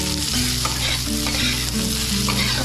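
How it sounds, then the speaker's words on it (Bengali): Potato pieces fry in hot mustard oil seasoned with turmeric and salt, giving a loud, dense, continuous sizzle with stirring close by and no talk. "এখন আমি আলুগুলাকে ভাজা করব।"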